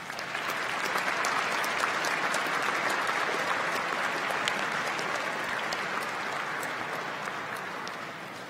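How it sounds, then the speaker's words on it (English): A graduation ceremony audience claps in a long, dense, steady round of applause that fades slightly toward the end, with no clear voices. "Let's take a moment to give them a round of applause"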